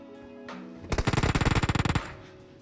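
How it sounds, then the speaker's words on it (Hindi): A single rapid burst of automatic gunfire in the mobile shooter PUBG Mobile on the Livik map, about twenty loud, evenly spaced shots fired in roughly a second. "तो दोस्तों यहाँ पे बहुत ही ज़्यादा फायर आ रहा है"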